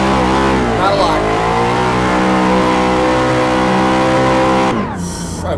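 A Nissan 370Z in the Assetto Corsa racing game, drifting on a mountain run, its engine held at a loud, sustained high-revving whine before the note drops and breaks up near the end.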